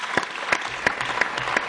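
Brief burst of applause from a parliamentary assembly after a member swears the oath of office, a few sharp, distinct claps ringing out at a steady pace.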